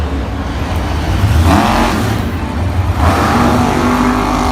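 Two monster trucks, Avenger and Black Stallion, race through mud with loud continuous engine roar, rising in two surging revs, heavy and close.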